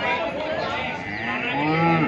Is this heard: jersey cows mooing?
yes